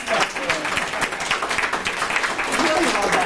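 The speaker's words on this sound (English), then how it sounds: "let's give everyone one more round of applause" Applause from a seated audience of graduate students and faculty at a hybrid university talk, a close, busy patter of many hands clapping throughout with some crowd murmur mixed in.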